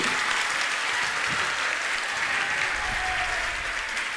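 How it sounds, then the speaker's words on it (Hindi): Steady applause from an audience at a Jain religious discourse with a muni, dense and continuous clapping at a moderate distance with no talk over it. "मुनिवारी की कमाई में ताली नहीं बज रही आपके, अच्छे से बजाइए"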